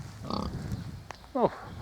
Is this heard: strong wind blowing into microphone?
no